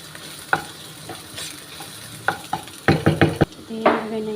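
Fried potatoes and carrots stirred in a pan with light-browned aromatics, a soft sizzle under a series of quick scraping and clattering spoon strokes, bunched together in a busy burst, close and clear.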